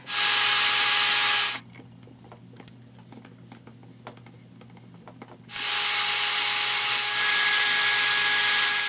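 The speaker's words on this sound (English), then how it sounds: "Now I need to drill a bigger hole this way" A small power drill bores a bigger hole in a part of a 1971 Mattel VertiBird toy, two loud whining bursts of drilling separated by a few seconds of quiet handling clicks.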